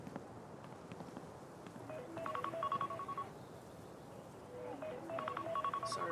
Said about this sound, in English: That is the biggest issue with my phone being, like, directly next to my microphone, is that when my birth control alarm goes off